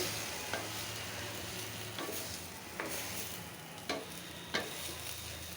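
Eggplant curry with rui fish oil frying in a pan gives a steady, soft sizzle, with a few sharp scrapes and clicks from stirring, quiet and close with no talk.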